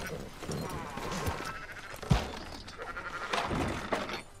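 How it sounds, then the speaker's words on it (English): Sheep bleating in the video game Red Dead Redemption 2, a few faint calls scattered among footsteps, thuds and low background voices. "Fine sheep."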